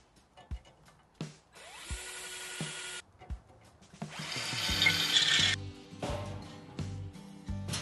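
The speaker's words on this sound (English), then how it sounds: "I'm going to start drilling holes now" A power drill whirs in short bursts, then grinds harder and louder as it bites into steel tabs on a flat deck trailer, with clicks and clanks between runs.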